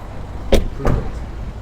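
Two dull thuds in quick succession as a Tesla Model S Plaid door shuts nearby, over faint background noise.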